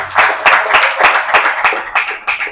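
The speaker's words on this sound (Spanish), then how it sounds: "Dese un aplauso a usted mismo." A church congregation claps in a loud, fast run of distinct hand claps, close and rhythmic, with no talking over it.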